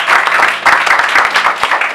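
Wedding guests clapping at a civil marriage ceremony before the mayor, a short burst of close, loud applause with sharp individual claps.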